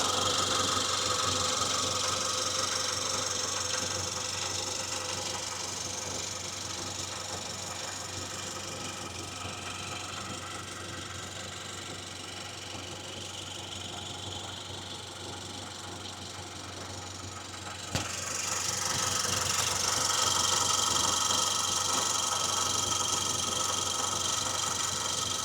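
A turbocharged direct-injection Chevy Cobalt engine idling, a steady low hum with a faint ticking texture, close and continuous, rising slightly louder near the end.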